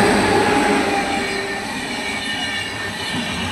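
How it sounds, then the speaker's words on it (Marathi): A train rolls past on an Indian railway track, loud and close, a continuous rumble with metallic wheel squeal, slowly easing in level, with no talk. "व्हिडिओ काढतच होतो तोच तर इथं ग्रीन सिग्नल झालं आणि रेल्वे आली बघा"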